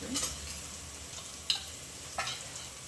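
Ginger garlic paste frying with onions in a pan sizzles faintly and steadily in the background, broken by a few soft spoon taps and stirring scrapes against the pan.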